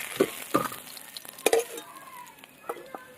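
Fried amudi fish lifting out of hot oil in a home kitchen, with a soft background sizzle broken by several sharp utensil scrapes and knocks, close and moderately loud, without voices.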